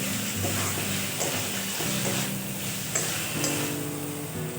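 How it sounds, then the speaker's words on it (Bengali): Minced chicken being sautéed in a pan for Bengali chicken ghugni, giving a steady close sizzle with stirring scrapes throughout. "চিকেনটা আমি এখানে খুব ভালোভাবে কষিয়ে নিয়েছি।"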